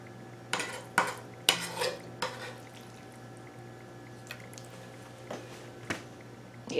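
Turkey meatball mixture spooned into squash shells, with several close clinks and scrapes of a spoon against the dish between soft wet squishes, spaced irregularly, no talking.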